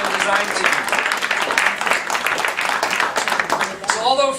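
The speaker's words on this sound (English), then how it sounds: "A big round of applause for our construction and design team." An audience at a child study center grand opening applauds a construction and design team, a loud, steady patter of many hands that continues until a voice comes in at the very end.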